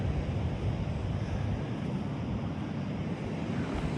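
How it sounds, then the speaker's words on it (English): High, pounding surf rolls onto a beach where agates are collected, a dense continuous roar of breaking waves mixed with gusty wind buffeting the microphone, with no talking. "Surf is super high and pounding, loud."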